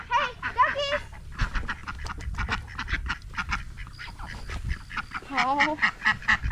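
A group of ducks quacks repeatedly outdoors, the nasal calls overlapping close by in busy bursts, with a few honking, goose-like cries mixed in and steady low background noise.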